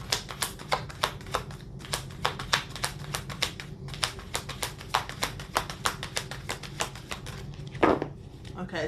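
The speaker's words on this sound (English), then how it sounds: "All right, last shuffle." Tarot cards are shuffled in a quick run of crisp, evenly spaced taps and flicks, fairly quiet and close, with no talking over them.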